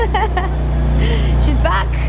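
A BMW M2 Competition engine idles with a steady low hum as the car backs slowly out of a workshop, with people talking over it.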